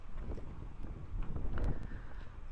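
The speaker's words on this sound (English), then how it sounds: "It's quite windy today," Gusty wind buffets the microphone outdoors on a windy day near a horse, a continuous low rumbling roar that swells and dips, with faint clicks and shuffling underneath.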